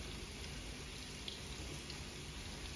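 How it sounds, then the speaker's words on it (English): Milk is poured steadily into a soup pot in a kitchen, producing a continuous splashing, gurgling flow without pauses. "I'm just going to pour the same volume of milk in"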